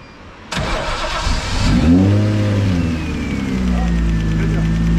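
A BMW E36 drift car's engine cranks briefly, catches and revs up, then drops to a loud, rough idle close by.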